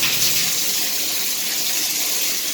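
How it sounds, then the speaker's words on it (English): Water runs steadily from a leaking Price Pfister shower valve handle, a continuous hissing spray that stays fairly loud and close throughout. "see the water leaking right here"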